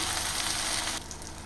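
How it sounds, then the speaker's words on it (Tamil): Finely chopped tomatoes, three of them, sauté with onions in a pan for a drumstick and brinjal thokku, giving a brief, moderate frying sizzle that softens partway through, with no talk. "பொடியாக கட் பண்ண மூணு தக்காளி சேர்த்துக்கலாம் தக்காளி நல்லா வதங்கி வரட்டும்"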